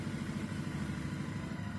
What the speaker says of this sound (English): So we're just going to start the engine.